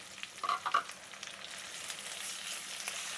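Chopped onions, two large ones, sautéing in oil for anchovy thokku: a continuous faint sizzle with a few brief stirring clinks near the start, no talking.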